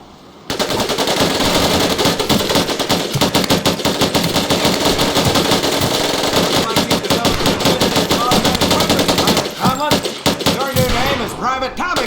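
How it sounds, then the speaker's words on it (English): Tommy gun firing rapid automatic bursts in the Medal of Honor: Pacific Assault video game, loud and close, running almost continuously for about ten seconds before breaking into shorter bursts that fade at the end. "Take your time to aim and fire the weapon in short bursts only."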